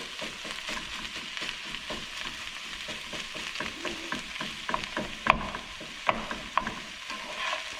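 Leftover food warms in a pan while being mixed, soft spatula scrapes and clicks over a faint low sizzle, quiet and close with a few sharper knocks near the end.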